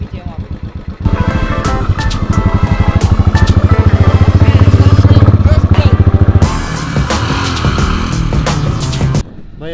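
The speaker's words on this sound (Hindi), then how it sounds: "अच्छा, तू बाइक चला रहा?" Royal Enfield Bullet motorcycle being ridden: a loud, close engine with a steady, rapid thumping pulse that rises in intensity, then shifts and continues strongly before cutting off near the end.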